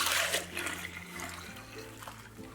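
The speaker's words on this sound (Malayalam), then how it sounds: "അരിച്ചെടുക്കാനുള്ള സൗകര്യത്തിന് ഞാൻ ഈ ബൗളിലേക്ക് ഒഴിക്കുകയാണ്" Kinnathappam rice batter pours steadily into a bowl, a close, soft trickling stream with no talking.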